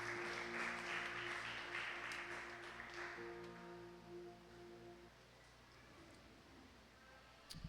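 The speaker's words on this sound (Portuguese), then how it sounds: "Dê uma salva de palmas para o nosso Deus." A church congregation applauds in a sustained burst, with dense clapping strongest at the start before fading away as sustained musical tones continue underneath.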